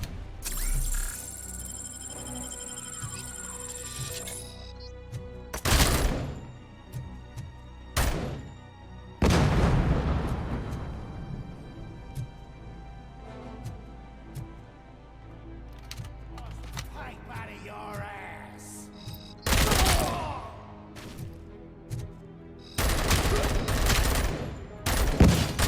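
Bursts of gunfire from a weapon in the shooter game Robocop: Rogue City ring out in several loud, separated volleys between quieter game ambience, with some talk in between.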